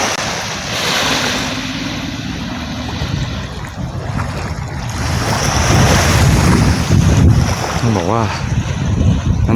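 Sea waves wash onto a quiet beach at Laem Sing, a steady, close, broadband roar that swells louder toward the end, with gusts of wind buffeting the microphone and no talking.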